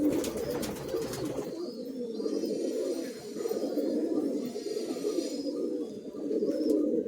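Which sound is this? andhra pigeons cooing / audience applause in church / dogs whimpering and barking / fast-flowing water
andhra pigeons cooing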